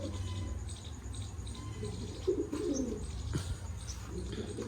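Pigeons coo in a steady, overlapping murmur of low, rolling calls close by, with a few faint chirps and a slight brighter flutter midway. No voices.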